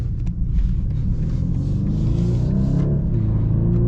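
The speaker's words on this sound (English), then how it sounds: "I guess we'll risk one more little acceleration here with the 2 Series." A BMW 2 Series with a four-cylinder engine accelerates from inside the cabin, its steady engine rumble rising in pitch with a gear change near the end, loud and continuous with no talk.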